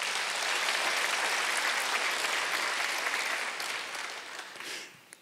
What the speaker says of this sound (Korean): 깨달은 사람만 박수 쳐보시오.